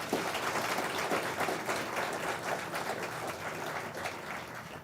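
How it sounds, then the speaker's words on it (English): Audience applause at an Indiana University College of Arts & Sciences Phi Beta Kappa ceremony, honouring the executive committee: steady, dense clapping from a crowd that holds evenly throughout, fairly soft and without voices. "A round of applause for our Executive Committee."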